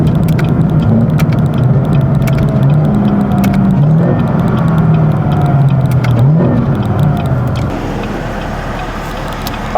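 Modded 750-horsepower Camaro ZL1 cruising with a loud interior drone and a thin supercharger whine riding above the engine, pitch wavering with throttle before quieting toward the end.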